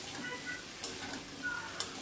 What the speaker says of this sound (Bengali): কিছুক্ষণ ধরে ফ্রাই করতে হবে।